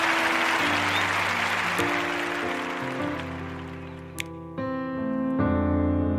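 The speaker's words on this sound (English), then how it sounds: "I applaud each and every one of you." A wash of applause rises and fades under sustained musical chords, leaving the held notes of the music ringing on alone toward the end.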